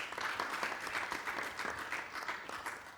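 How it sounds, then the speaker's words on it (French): A TV studio audience on a French-language entertainment show breaks into brisk, continuous applause, a close and fairly loud patter of many hands with no speech over it. "on va faire des applaudissements pour elle."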